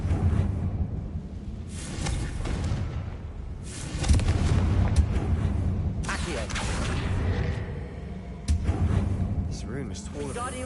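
Blasting spell explosions in the video game Hogwarts Legacy, several booming bursts spread across the clip, loud and close, with someone talking over and between them.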